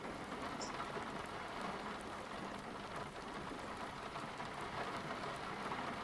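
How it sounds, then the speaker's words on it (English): Steady rain falling in a video game during a thunderstorm, an even broadband hiss of drops on surfaces that stays constant and fairly loud throughout, with no voices over it. "Yeah, it looks like it's raining."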